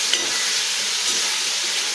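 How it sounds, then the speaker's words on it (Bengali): Potato and taro pieces frying in hot oil, a steady close sizzle with a continuous bright hiss and faint stirring, no voices. "এবার আমি লাল করে আলু আর বাকি কচুটাকে ভেজে নেব"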